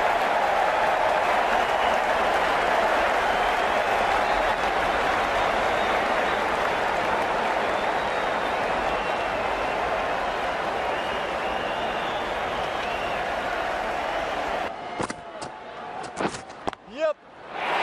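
Packed cricket stadium crowd cheering and applauding after a big shot in an IPL 2021 match between Kolkata Knight Riders and Mumbai Indians. The loud, sustained roar fades out near the end into scattered clatter.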